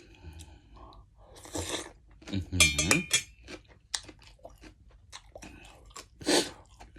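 Spicy king oyster mushroom salad being chewed up close, with wet crunchy bites and smacking in bursts, interrupted by short breaths and mouth noises and a few faint clinks of dishes or cutlery.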